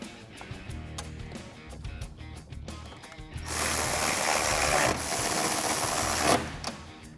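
A ratchet with an 8mm socket tightens grille bolts on a 2021-2022 Ford F-150, giving rapid close mechanical clicking and whirring that grows louder and denser midway.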